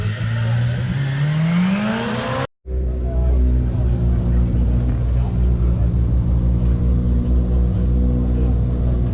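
An Audi S4 Group B rally car roars at a rally festival; a rising engine note swells, cuts out abruptly, then returns as a loud, steady rumbling drone close by.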